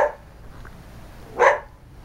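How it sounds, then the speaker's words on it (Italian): A dog barks twice in the Italian countryside near Grassia, one short bark at the start and a louder one a moment later, both somewhat distant over a soft outdoor background. "abbaia il cane"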